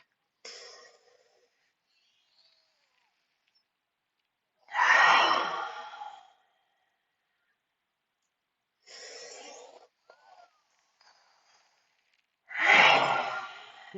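Slow, deep breaths during a yoga stretch, with four long airy inhales and exhales separated by quiet gaps, close and clear with no talking.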